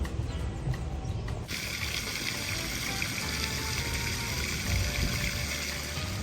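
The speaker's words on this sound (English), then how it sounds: "There's a fountain over there, fountain over there, fountain over there, fountains everywhere" Outdoor water fountains at The Market Common, a former Air Force base area, splash and gurgle steadily, a constant rushing patter that grows fuller after a brief quieter start.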